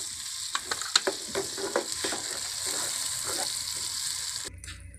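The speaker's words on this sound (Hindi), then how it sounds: "अब मैं ये इसमें बारीक कटा हुआ प्याज डालूँगी।" Finely chopped onion sizzles in hot butter in a village kitchen, a steady close frying hiss broken by sharp crackles and stirring clicks in the first half, cutting off abruptly near the end.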